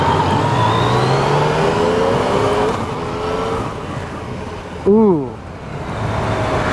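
A 2016 Yamaha FJ-09 (MT-09 Tracer) motorcycle engine revs up through rising pitch sweeps, easing off, then a sharp loud rev near the end, with a brief exclamation from the rider.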